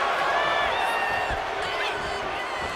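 Crowd cheering at a wrestling match in the WWE 2K25 video game, a steady, loud arena roar that holds throughout with a voice talking over it.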